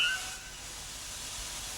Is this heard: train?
yes